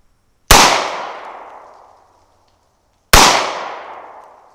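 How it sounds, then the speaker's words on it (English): Two sharp unsilenced gunshots, each a loud sudden crack with a decaying ring, about two and a half seconds apart with silence between, fired without a pillow as a baseline for a loudness test. "Let's shoot one more."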